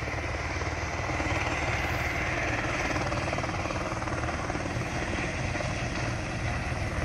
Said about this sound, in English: we've got a helicopter right there. I'm just going to watch it take off.